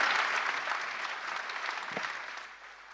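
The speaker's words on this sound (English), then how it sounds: "Let us give a round of applause to our distinguished speakers." An audience at a financial leaders' investment summit gives a round of applause for the speakers, a steady wash of clapping from many hands that slowly tapers off.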